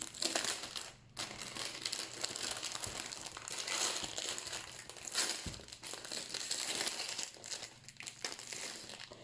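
Clear plastic sachet wrapping an Action art canvas crinkles and crackles steadily and close up for several seconds, a quiet continuous rustle with brief pauses and no talking.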